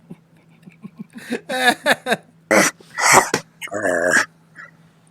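A man imitates a wolf howl with his voice, giving a series of short, strained harmonic yelps and whines that rise and break off over a few seconds, followed by a quiet room.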